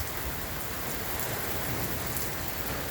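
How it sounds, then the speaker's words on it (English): Heavy rain pours into a garage at night during a tornado storm, a steady, dense hiss of drops drumming on surfaces close by, with no voices over it. "And the rain's coming inside the garage."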